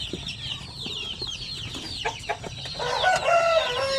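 Two-day-old native chicken chicks chirp in a busy, high-pitched chorus, growing louder and more insistent toward the end as the hungry brood peeps close by.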